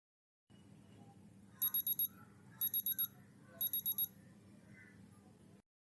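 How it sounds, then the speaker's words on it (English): An Omron MC-343F digital thermometer sounds three short bursts of rapid electronic beeps after finishing a measurement, faint and close against quiet room tone. "Measured temperature of my hand is shown when there is ring of 3 buzzers."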